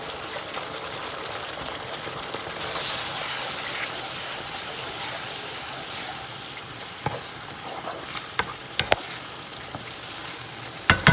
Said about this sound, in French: Ça mijote tout doucement.